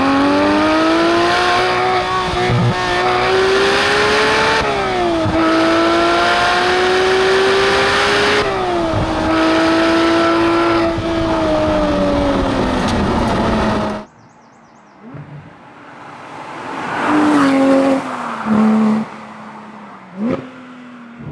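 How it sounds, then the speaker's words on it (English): A manual 991.2 Porsche 911 GT3 engine screams loudly at high revs, climbing through gears with brief shift dips, then cuts off; quieter blips and revs follow. "Sweet Mary, Mother of God, that engine."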